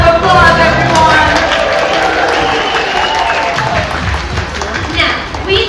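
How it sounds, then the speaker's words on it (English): A crowd aboard the Disney Fantasy cruise ship at a Pixar Day at Sea event gives a loud round of applause and cheers, dense clapping with excited voices and chatter throughout, close and sustained for several seconds. "Give them a round of applause, everyone!"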